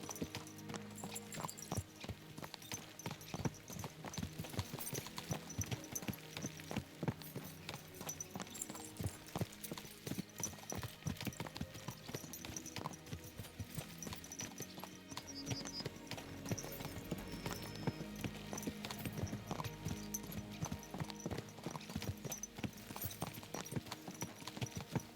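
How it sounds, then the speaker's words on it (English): Horses galloping in the video game Kingdom Come: Deliverance II, with dense, fast hoof clip-clops pounding steadily for about twenty-five seconds and a faint whinny. Game music and ambience sit underneath. "Let's really spur these horses on, eh?"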